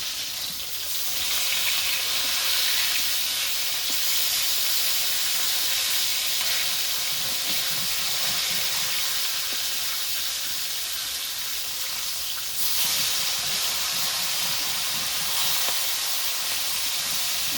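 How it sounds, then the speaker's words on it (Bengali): Fish frying in oil, pieces being flipped partway through cooking, with dried chillies in the pan; a steady, loud, broadband sizzle and hiss continues without a break and with no talking. "মাছগুলো আর একটু ভাজা হতে থাকবে"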